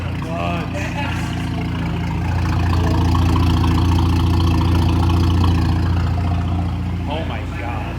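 Loud, close idle from a B9 Audi S5 running a Carbnlab Motorsport decat downpipe: a steady low burble that swells slightly midway and holds, with a brief murmur of voices near the end.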